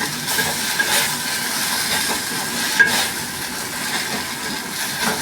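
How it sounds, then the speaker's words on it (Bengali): Water lily flowers frying in a pan while being stirred, giving a steady close sizzle with soft scraping and stirring noises throughout and one brief sharp clink near the middle. "ভালো করে আমি এরকম নেড়ে চেড়ে কিন্তু আমি এটাকে ভেজে নিচ্ছি।"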